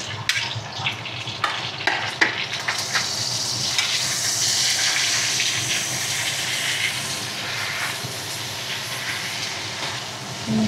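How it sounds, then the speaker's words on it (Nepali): Onion, ginger and garlic frying in oil for a meat curry, a loud continuous sizzle with stirring scrapes and clatter of the spoon against the pan, close and steady throughout. "प्याज हालेर फ्राई गर्नु प्याज र अदुवा लसुन सँगै हालिदिनु पर्यो"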